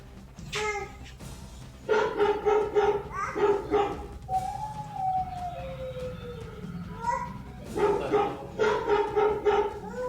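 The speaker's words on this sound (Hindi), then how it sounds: "एलेक्सा कुत्ते की आवाज़ निकालो" An Alexa smart speaker plays recorded dog barking: two clusters of sharp, repeated barks separated by a drawn-out tonal whine, moderately loud against a steady background hum.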